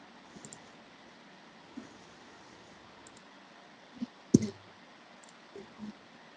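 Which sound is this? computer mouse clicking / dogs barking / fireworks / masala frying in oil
computer mouse clicking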